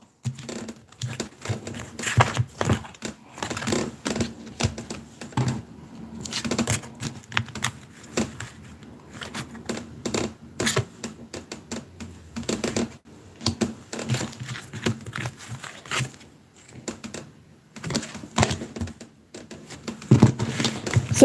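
Tarot cards being shuffled by hand, quiet bursts of crisp riffling and tapping card clatter repeating irregularly at close range, with no talk.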